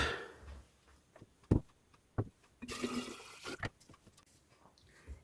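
Water poured into a buckwheat grain mash for homemade whisky, arriving in several separate splashing bursts of pouring and sloshing with short quiet gaps between, close and moderately loud.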